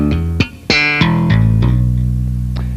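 Bass guitar tapping with thumb slaps on open E and fretted hammer-ons gives a sharp percussive attack, then a quick run of ringing notes that settle into a sustained low tone, close and loud.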